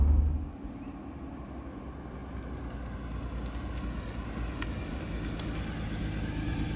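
A damaged Acura NSX hums along on its first test drive, a low steady engine and road drone heard from inside the cabin, with a brief louder thump at the start and no talking.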